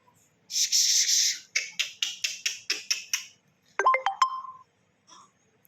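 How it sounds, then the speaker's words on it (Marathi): A mobile phone ringtone plays nearby, a long electronic tone followed by a rapid train of short repeated beeps and a brief rising melodic phrase, then quiet. "फोन येते"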